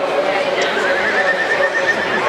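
An Irish Draught stallion neighing during a stallion parade at the Dublin Horse Show, a loud sustained whinny under a public-address commentator talking over an echoing arena.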